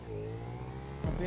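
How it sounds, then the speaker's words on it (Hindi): A motorbike engine hums in a video game biker parkour race, a steady mid-pitched drone with a whining tone that jumps to a louder, rougher rev just past one second. "मैं तो इधर भी नहीं चला पा रहा बाइक, अब धीरे धीरे चला रहा हूँ"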